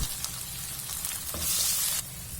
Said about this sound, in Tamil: இப்ப சேர்த்து நல்லா வதக்கி விட்டுக்கலாம்.